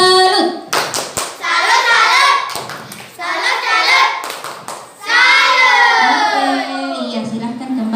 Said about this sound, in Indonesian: Kita berikan tepuk salut untuk kelompok biru.